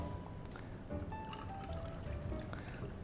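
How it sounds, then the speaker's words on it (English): A stirred Negroni variation is poured over a solid block of ice, a soft, close liquid trickle with light splashes and faint clinks across a few seconds. "Pour that over a nice solid piece of ice"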